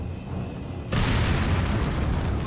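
A loud explosion in the video game Resident Evil 4 bursts in suddenly and stays as a dense, sustained roar across the rest of the moment, taking out a line of enemies.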